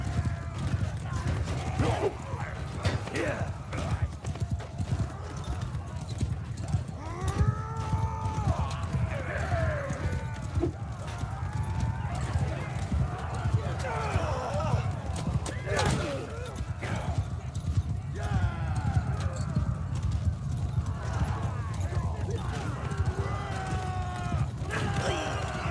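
Horses gallop through a Mount & Blade Bannerlord battle, a steady low rumble of hooves running beneath battle noise, with occasional whinnies and someone talking over it throughout.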